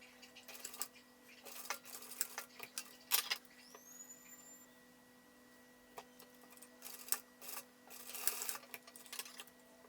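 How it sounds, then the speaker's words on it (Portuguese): Straight-stitch sewing machine running an initial seam on fabric for a cropped top, heard close up in short rhythmic bursts of stitching broken by brief pauses, with faint clinks of handling between runs. "vou lá na máquina reta pra fazer essa costura inicial."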